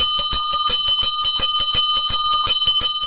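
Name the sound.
ice cream seller's bicycle bell ringing, cartoon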